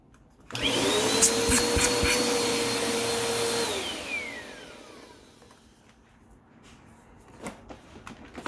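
A Bissell PowerForce/CleanView Compact upright vacuum cleaner with a newly replaced belt starts up loud and steady with a high whine, then powers down over a second and fades, leaving faint clicks and handling noises.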